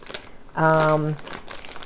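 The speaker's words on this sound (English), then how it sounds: "You can always just use a plastic bag, like a Ziploc bag or something" A plastic piping bag crinkles while being handled during frosting for dog muffins, a busy papery rustle with a brief steady tonal hum in the middle, heard up close.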